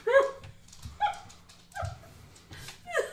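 An old dog gives a series of four sharp, close barks spaced about a second apart, with some whiny yips between them.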